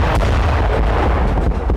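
Dense, continuous thunder of explosions from Israeli strikes on southern Lebanon, loud rolling blasts overlapping with no quiet between them.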